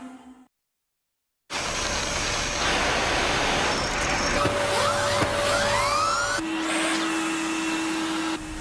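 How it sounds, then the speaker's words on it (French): A bagless Dyson vacuum cleaner starts up after a brief silence and runs with a loud, steady whine, its pitch rising and shifting, then settling into a lower drone. "Le nouvel aspirateur de Dyson. Pas de sac, évidemment, donc pas de perte d'aspiration."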